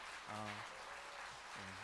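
Church congregation applauding in blessing during a Thanksgiving worship service, a steady wash of clapping throughout with short bursts of voices or singing tones rising over it.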